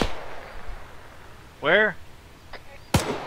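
Gunfire sounds in the Arma 3 video game: a few sharp distant shots and cracks, with someone speaking briefly over the quiet background.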